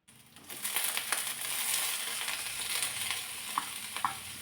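Finely chopped cauliflower sautéing in a hot pan with oil, a steady close sizzle and crackle that persists throughout, with a few light scraping stirs near the end.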